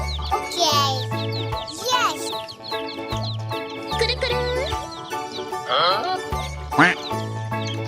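A duck quack in a children's colour-learning toy unboxing, repeated bright nasal calls over cheerful music with a voice around them.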